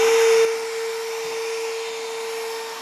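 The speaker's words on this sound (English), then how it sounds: "Next, I'm going to plug it in and we'll do a test trim." An electric on-press case trimmer runs while test-trimming brass, giving a steady motor whine with a constant pitched hum that follows a brief louder start.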